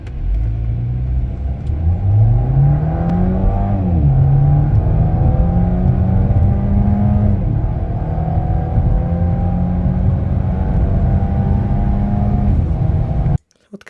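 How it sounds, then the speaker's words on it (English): An Audi A5 drives on its first road run after repair work, the engine rising in pitch through several gear changes, loud, steady and close from inside the car, then cutting off abruptly. "I finally took the car on the first ride"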